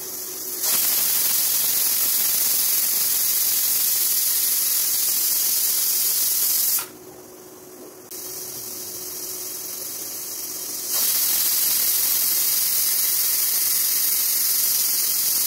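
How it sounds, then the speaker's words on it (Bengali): A pressure cooker hisses and whistles steadily while paya biryani cooks, a loud, sustained high-pitched steam whistle that briefly drops away and then returns at full strength. "10 থেকে 12টা সিটি দেওয়া পর্যন্ত অপেক্ষা করুন।"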